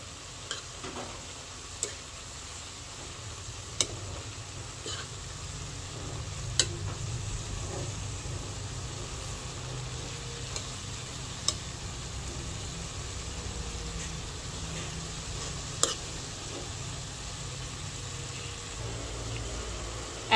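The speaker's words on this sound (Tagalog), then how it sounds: "Akin lang pong hahaluin" Bean sprouts and tofu sautéing in a pan, a steady low sizzle running throughout with sharp ticks of a utensil tapping the pan every few seconds as it is stirred.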